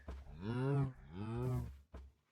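A cow moos twice in a Minecraft-style video game, drawn-out lowing calls a breath apart, then a short thump; no talk.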